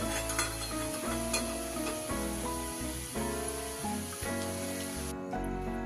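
Sweet potato and mung dal pithe dumplings frying in hot oil, giving a steady close sizzle with bubbling crackle that stops abruptly near the end.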